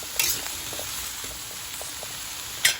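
Tomatoes sizzling in hot oil while being sautéed for pinakbet, a steady close frying hiss with a couple of sharp stirring scrapes, no voices.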